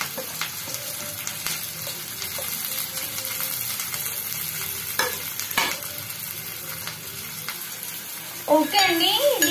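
Onions fry with cumin and mustard seeds in a pan while a utensil stirs them, giving a soft steady sizzle and scattered scraping clicks, with a brief voice near the end.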